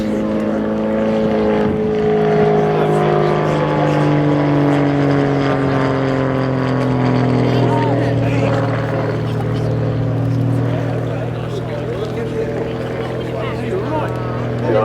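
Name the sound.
Grob aerobatic aeroplane flying manoeuvres at air show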